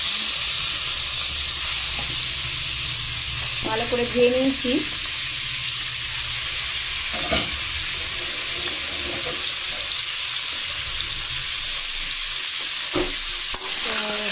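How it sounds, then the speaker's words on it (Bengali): Chicken pieces sizzle in a wok with a steady frying hiss, mixed with clinks and stirring and a brief spoken remark partway through. "মাংসটা আমি আগে ভেজে নেব। দিয়ে দিলাম কড়াইতে।"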